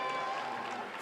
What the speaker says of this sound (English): To a round of applause